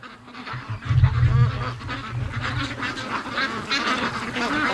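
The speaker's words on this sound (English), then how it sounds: "The ducks just got home." A flock of domestic ducks, just back home from the water, quacks in several overlapping calls at moderate volume, with a brief low rumble near the start.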